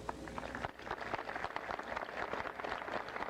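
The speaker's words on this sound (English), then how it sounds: "Faculty, please rise for a much-deserved round of applause." An audience at a 1998 graduation ceremony applauds the faculty with a steady, dense patter of many hands clapping, sustained evenly throughout and heard at a moderate distance.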